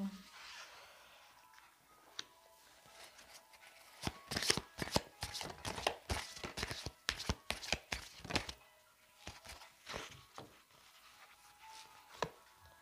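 Angel oracle cards being shuffled by hand, a quiet close run of rapid papery riffles and soft taps that builds into dense bursts, then slows, with brief talk at the edges.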